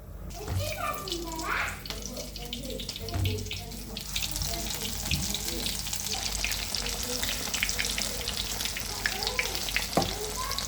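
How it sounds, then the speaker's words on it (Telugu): Green chillies (mirchi) hit hot oil and burst into a loud, steady sizzle and crackle that continues to the end, with a voice talking over the start. "నూనె అయితే వేడైపోయింది ఇక మిర్చిలు వేసేసుకుందాం"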